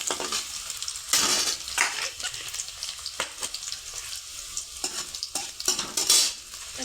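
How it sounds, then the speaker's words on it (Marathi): Chopped onion sautéing in plenty of oil for poha, a steady close sizzle broken by repeated scrapes and clinks of a spatula stirring in the pan, with no talk. "लाल असा मस्त परतून घ्यायचा कांदा."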